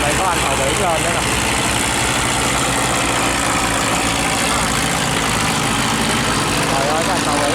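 A large seagoing ship's engine runs with a steady, heavy low rumble and drone that fills the scene continuously, loud and close, as the vessel approaches a sluice gate and pushes into boats and a barge.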